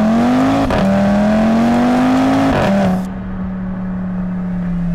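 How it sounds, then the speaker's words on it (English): A 2012 Audi TT-RS with a five-cylinder turbocharged engine and four-wheel drive drones steadily under load, its pitch climbing gently, dipping at gear changes and then settling as the engine eases off. "this shares obviously the four-wheel drive and the five-cylinder turbocharged engine. And the net result is you get something with a really unique sound."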